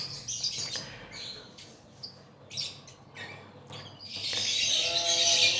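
Lovebirds chirp in quick, high, sharp bursts with brief gaps, building into a louder, continuous stretch of overlapping calls near the end; no one speaks.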